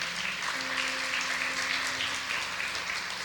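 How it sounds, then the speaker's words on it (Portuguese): A church congregation applauds in a soft, distant wash of clapping that continues evenly, with a faint hum beneath it. "Diga amém e aplauda o Senhor se você crê nisso."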